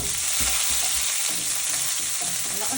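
Sliced onions frying in a pan give a loud, steady sizzle with occasional stirring scrapes, close up and continuous, with no talking.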